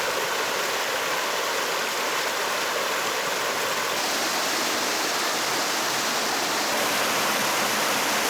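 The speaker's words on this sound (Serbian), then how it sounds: "Na početku zvuk vode žubori kao pitomi potok, a što smo bliže vodopadu, šum vode dobija na jačini i dubini glasa" Waterfall and rushing mountain water near Bovec, Slovenia, a loud, steady, broadband roar that fills the whole stretch without pause, close by and alone with no voices.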